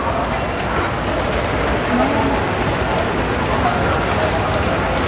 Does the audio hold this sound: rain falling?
yes